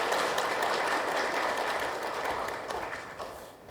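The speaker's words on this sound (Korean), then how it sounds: "다시 한번 뜨거운 박수 부탁드립니다" Steady, distant audience applause filling a hall at a fire industry policy briefing, dense and even before tapering slightly at the end.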